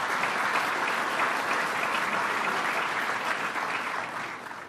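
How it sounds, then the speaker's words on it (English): Audience applause for Tom Prendergast at an event with New York governor Andrew Cuomo, a steady wash of clapping that holds for several seconds and then begins to fade. "Let's give him another round of applause."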